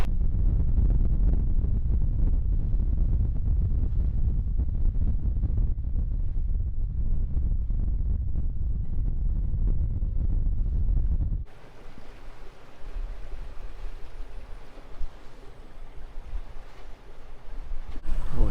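Gusty, variable wind roars across the microphone aboard a sailing yacht heading close hauled, loud and buffeting with low rumble for several seconds. It then drops to a thinner rushing of wind and water, with no talk.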